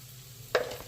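Onions frying in a pan for an egg fry, with a sudden sizzle and stirring burst rising midway after a quiet start, then settling into a steady close crackle.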